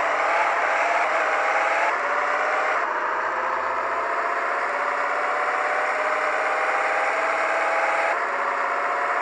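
Engine of a car in a drag racing video game held at steady high revs, a constant buzzing drone with a couple of abrupt pitch shifts like gear changes, loud and alone without talk.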